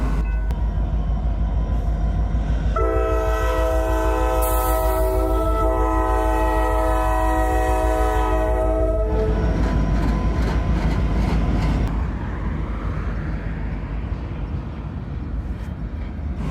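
Amtrak P42 locomotive running with a GP60 in old Norfolk Southern paint, passing close with a loud sustained multi-tone horn blast over heavy rail rumble, then the horn stops and rolling train noise continues.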